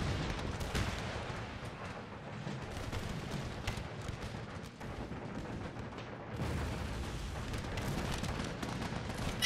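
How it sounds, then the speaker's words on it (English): Cannon and musket fire in the Napoleonic-era strategy game Empire: Total War, with a dense, continuous battle rumble of overlapping booms and crackle that swells louder near the end. "Fire the damn cannons already!"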